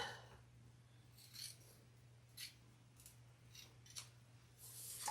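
Scissors trimming leather at a sewing table, a few quiet snips spaced irregularly over a low steady hum, soft and close with no talking.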